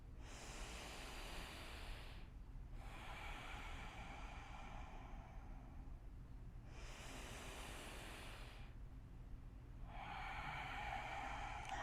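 Slow, deep breathing during a chair yoga session, long airy inhales and exhales in a steady rhythm, faint against a low background hum with no talk.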